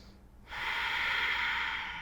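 A single deep yoga breath, a close, steady airy rush of inhaled or exhaled air that starts abruptly and holds for about a second and a half, alone and without talk.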